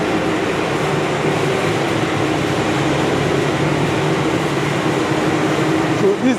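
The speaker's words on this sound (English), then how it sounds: "So this is the flash dryer I showed you." A flash dryer on a fufu processing line roars loudly and continuously, a dense, steady mechanical rush with a low hum that holds without pause.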